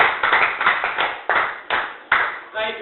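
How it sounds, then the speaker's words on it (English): A seminar audience of teachers claps in several short bursts, loud and close, each swelling and fading in quick succession. "Please, I want you to use this round of applause to appreciate yourself for the great work that you are doing as a teacher."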